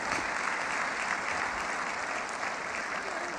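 An audience at a motivational speaking event breaks into steady, dense applause for a young woman being introduced on stage, a continuous clapping wash at even loudness with no voices.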